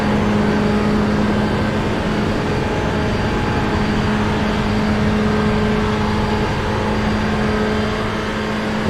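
An LMP1 prototype race car at the Daytona 12 Hours gives a loud, steady engine drone that holds at an even pitch and level throughout, with no one talking over it.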